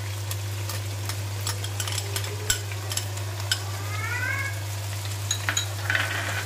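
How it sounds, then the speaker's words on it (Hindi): Chicken pieces with ginger garlic paste frying and being stirred in a pan, a steady sizzle under a constant stove hum with scattered clicks and scrapes of the spoon against the pan. "और इसे फिर मज़ीद 1 मिनट के लिए भूनेंगे ताकि अदरक और लहसुन जो है वो अच्छी तरह से पक जाए"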